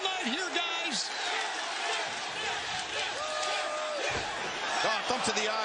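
A wrestling crowd roars in a large venue, a broad sustained din at a distance, under commentators' talk.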